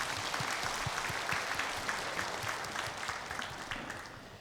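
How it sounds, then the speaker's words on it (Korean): Congregation applause during a Sunday church worship service, a steady dense clatter of many hands filling the hall for about four seconds, moderately loud and fairly even, tapering slightly toward the end. "하나님께 영광의 박수 올려드리겠습니다."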